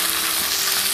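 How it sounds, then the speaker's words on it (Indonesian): Sliced ingredients for Ayam Pesmol fry in an oiled pan, giving a steady, close, bright sizzle for a brief second with no voices. "Kita akan masak, kita kasih minyak pan-nya. Kita masukin bahan yang di slice dulu."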